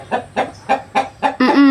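A chicken clucks close and loud, five short evenly spaced clucks followed by a longer drawn-out squawk.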